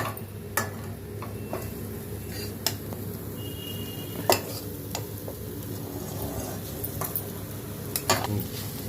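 Pieces of half-boiled ivy gourd are stir-fried in masala in a pan, giving a soft, steady low sizzle broken by occasional sharp clinks and scrapes of the spoon against the metal.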